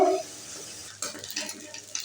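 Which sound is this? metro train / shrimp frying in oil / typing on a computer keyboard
shrimp frying in oil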